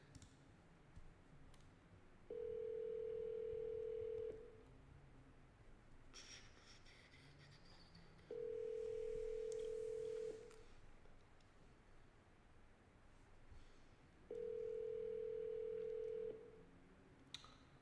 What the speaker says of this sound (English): Let me know if you guys can still hear the dial tone.